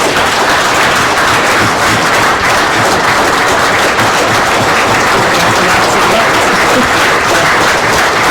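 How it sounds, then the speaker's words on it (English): Loud, sustained applause from an audience at a military history night event, dense clapping filling the whole stretch without pause. "If you can please join me in a round of applause for an outstanding Canadian."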